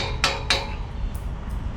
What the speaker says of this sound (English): Use a little hammer persuasion to get this thing in there fitted right.